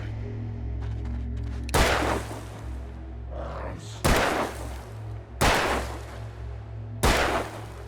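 Four loud, sharp gunshots in the Alan Wake video game ring out at irregular intervals over a steady low ambient drone, each blast decaying quickly back into the background hum.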